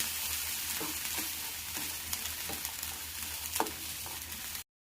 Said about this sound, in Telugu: ఉడికించినటువంటి బఠానీని ఇందులోకి వేసుకోవాలి. ఇలా వేసుకున్న తర్వాత ఇలా కలుపుకోవాలి